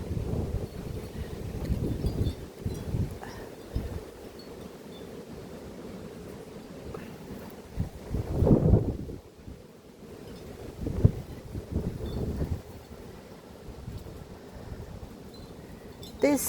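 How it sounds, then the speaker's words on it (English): Gusty wind blows outdoors at a spring tulip-painting spot, a steady rumbling wash of microphone buffeting with stronger gusts swelling around the middle and again later, no voices. "It's a little bit windy today."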